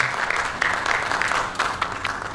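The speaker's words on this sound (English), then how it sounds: "please can we clap as she comes out" Workshop audience of university staff clapping as a speaker walks up, a dense, even spread of many hands at moderate distance, continuing steadily throughout.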